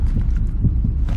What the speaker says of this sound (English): Why is my heartbeat so loud?